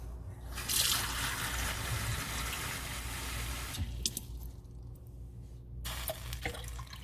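Water runs from a kitchen tap into a cooking pot for rice, a soft steady stream that briefly swells and then trickles, faint and close, with no talking.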